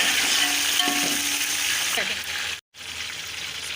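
Tomatoes and slit green chillies fry in a pan for beef keema pulao, a loud, continuous close-up sizzle with scraping stirring strokes and a brief cut to silence near the end.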